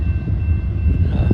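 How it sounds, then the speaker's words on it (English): A long empty coal train rumbles past nearby in eastern Missouri, a steady low roar with faint clanking and wind buffeting the microphone. "So this is a empty coal train."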